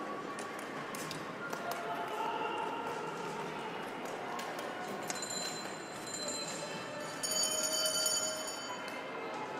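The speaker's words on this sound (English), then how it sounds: "Into the bell lap, that means the lead skaters in their pairings are into their final lap" A bell rung repeatedly for the final lap of a 3,000 m junior long track speed skating race at an indoor oval, a rapid metallic ringing in the closing seconds over crowd and arena noise.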